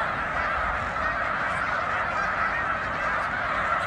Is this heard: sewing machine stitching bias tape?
no